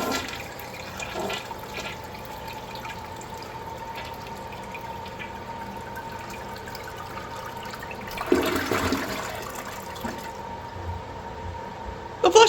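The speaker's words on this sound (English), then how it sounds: "Let's have a look at a flush." A Kohler Wellworth Waterguard toilet, fifth generation, flushes in a quiet bathroom: a steady low rush of water runs throughout, swelling into a louder surge near the end with a brief gurgle.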